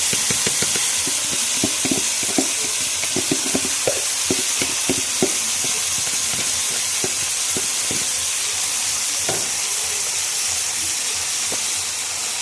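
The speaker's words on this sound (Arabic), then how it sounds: "دلوقتي كده حمرت الشعريه، هنزل عليها بالرز" Vermicelli frying in ghee in a pan, then rice added and stirred, with a steady loud sizzle and hiss under repeated scraping strokes of a spoon.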